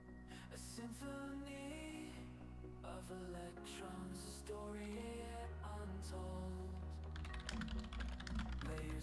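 Steady, fast typing on a computer keyboard with dense clicking keystrokes throughout, close and clear over a layer of background music.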